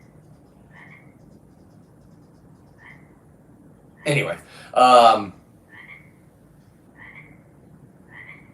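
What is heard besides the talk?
frogs croaking in the daytime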